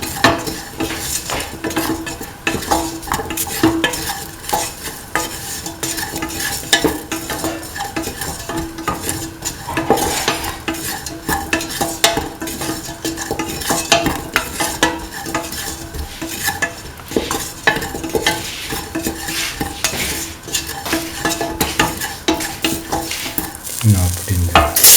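Beef is stirred with garlic, ginger and shallots in a pan, a busy continuous frying sizzle layered with constant scraping and clinking of a utensil against the pan, close and fairly loud, no talking.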